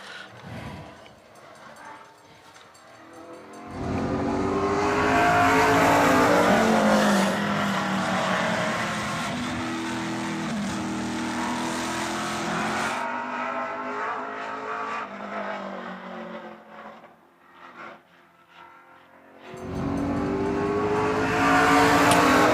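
Race car lapping a speedway during time trials, engine roar swelling as it passes close, fading and rising again with the circuit, loud and sustained with brief quieter gaps.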